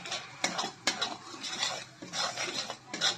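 Turmeric and vegetable spice masala sautéed in a pan, a spoon scraping and clinking against the metal in irregular strokes with a faint sizzle beneath, close and moderately quiet.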